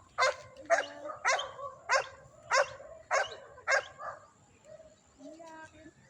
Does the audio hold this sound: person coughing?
no